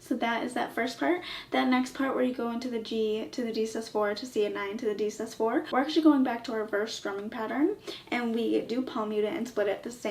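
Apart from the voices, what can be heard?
None of the usual background noises is heard.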